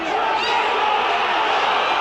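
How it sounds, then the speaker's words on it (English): Rugby league crowd at Wakefield Trinity's ground during a match against Hull, a broad, steady roar of cheering and shouting that fills the whole stretch at a fairly loud level. "Trinity crowd getting behind their side."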